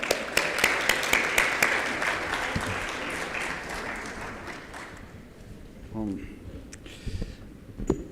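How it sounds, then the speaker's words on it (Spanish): An audience at a health and education policy results presentation claps loudly to welcome a vice minister of health. The applause fades over several seconds, then a voice begins speaking near the end. "Recibámoslos con un fuerte aplauso"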